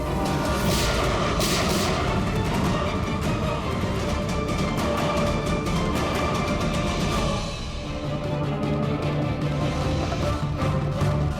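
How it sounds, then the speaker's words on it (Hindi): Gunfire in a firefight on the Indian TV crime drama CID: dense, continuous bursts of booming shots and blasts, loud and close, with a brief lull before more firing resumes. "मुझे कवर करो और फायरिंग करते रहना।"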